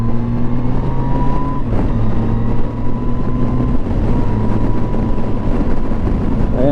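A 2007 Yamaha FJR motorcycle, running on a replacement engine, hums steadily while riding on the road, a loud close drone with wind noise and slight pitch shifts as the engine changes speed.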